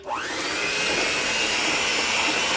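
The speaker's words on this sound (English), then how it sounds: "And I'm blend this all together." A loud, steady motorized whir of a blender mixing pumpkin pancake batter starts abruptly and holds at an even pitch throughout, with no talking over it.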